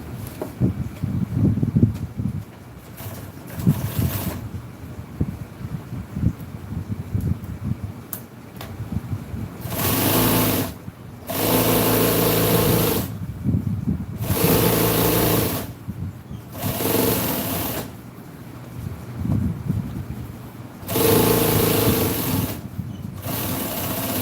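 An electric sewing machine stitching a seat cover for a 1966 Chevy truck, running in several loud sustained bursts of a few seconds each, separated by quieter pauses filled with handling noise.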